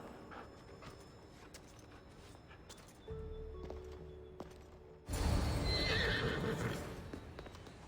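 A horse in Assassin's Creed Odyssey whinnies and stamps its hooves in a game scene, the loud neigh bursting out near the end over low rumbling ambience.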